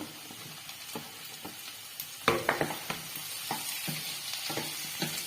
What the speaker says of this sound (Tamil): இந்த தக்காளியும் போட்டு வதக்கிக்கலாம்.